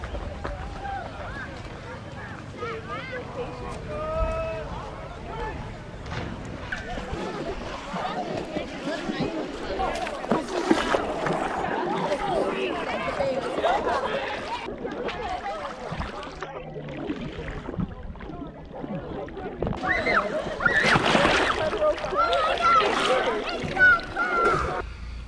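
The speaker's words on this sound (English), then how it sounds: "there is like a little beach over here and people are like going in the water" Splashing and sloshing water carry from a small beach where people wade in, a busy mix of splashes and distant voices continuing throughout at moderate volume.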